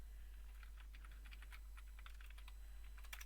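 Fast, light clicking of a computer keyboard as someone types code, with irregular bursts of keystrokes close to the microphone over a low steady hum.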